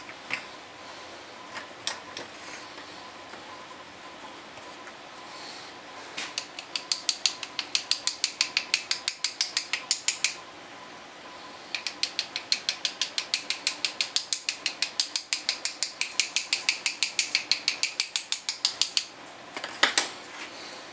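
A dusty computer struggling, with a fast mechanical clicking and ratcheting in long rapid bursts and pauses between them, close and fairly clear over low background hiss.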